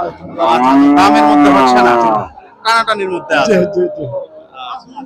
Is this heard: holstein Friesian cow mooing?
yes